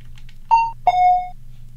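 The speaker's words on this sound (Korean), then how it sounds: "종소리 겁나 심플해" A plain two-note electronic bell chime in the horror game The God of Crawling Eyes, a short ding followed by a longer, ringing dong, clear and alone over a low steady hum.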